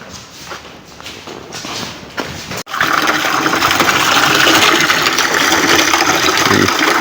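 Tap water running into a vessel at home, a quieter trickle at first, then after a brief break a loud, steady gushing stream close by that fills the space evenly.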